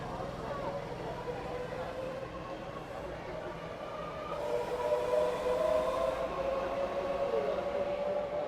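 A British passenger train departing Ely station on the Fen Line toward King's Lynn in Train Simulator 2021, a continuous rumbling engine drone with tonal whine that swells louder midway, under a narrator's voice.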